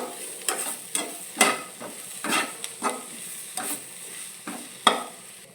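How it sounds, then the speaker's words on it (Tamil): Bitter gourd being stirred in a pan with turmeric, coriander and chili powder: a steady run of scraping spoon strokes, about one per second, over a soft sizzle, close and alone. "கொஞ்சமாக மஞ்சத்தூள் அப்புறம் மல்லித்தூள் கொஞ்சமாக தனி மிளகாய்த்தூள் எல்லாத்தையும் ஒரு தடவை நல்லா மிக்ஸ் பண்ணிக்கலாம்"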